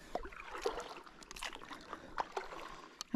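River water flows and laps gently around a boat on a quiet stretch of river, a soft continuous trickle and gurgle with small splashes, close and calm with no talking.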